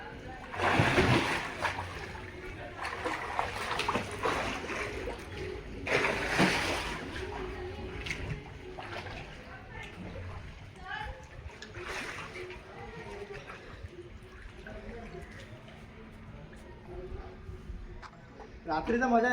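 Water splashes and sloshes at night, with several loud bursts of splashing between quieter stretches of moving water, under the voices of a group of people talking.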